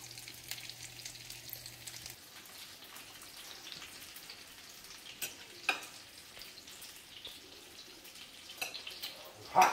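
Homemade chicken patties fry in a pan over lowered heat, giving a soft, steady sizzle with faint crackles and occasional small pops throughout.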